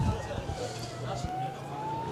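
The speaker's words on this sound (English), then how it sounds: "if you hear the siren, that's the siren for the young Tawa boy heading off to Wellington Hospital" Ambulance siren sounding near a premier club rugby match in Wellington, a faint, slowly rising wail that carries under steady crowd murmur and talk.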